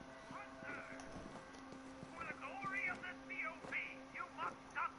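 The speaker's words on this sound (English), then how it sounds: "Oh, the bird. I was wondering what that sound was." A bird calls in the Borderlands 3 video game, a series of chirping, warbling cries that grow busier toward the end, heard over game effects and a low steady hum.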